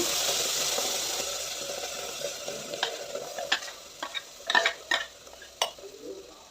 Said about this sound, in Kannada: ಇದಕ್ಕೆ ನಾನು ರುಬ್ಬಿರುವಂತಹ ಮಸಾಲೆನ ಹಾಕ್ಕೊಂಡು ಪುನಃ ಅದನ್ನು ಕೂಡ ಫ್ರೈ ಮಾಡ್ಕೊಳ್ತೀನಿ